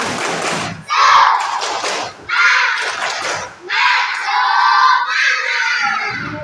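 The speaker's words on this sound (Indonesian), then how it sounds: "Coba tepuk semangat" Children in a classroom perform a spirited rhythmic clap chant, bursts of voices and claps in repeated phrases with short pauses between, loud and close.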